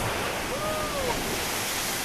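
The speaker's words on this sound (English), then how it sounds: "Here comes a big wave." A big ocean wave surging against rocky shoreline in Tonga, a loud, continuous broadband roar and wash filling the whole moment, close and steady with wind buffeting.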